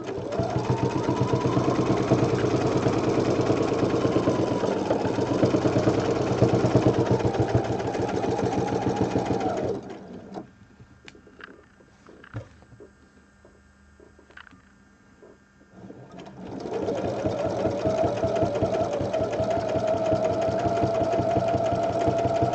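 Sewing machine quilting Angel Wings template designs, running in a long steady stretch, stopping for several seconds of quiet clicks and adjustments, then starting again.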